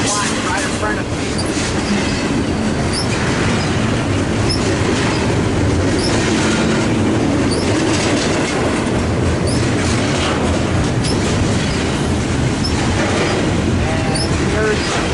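A freight train rolls past close by, diverging from main 2 to main 1 at a rail junction in Commerce, with a steady loud rumble of wagons and clickety-clack of wheels throughout.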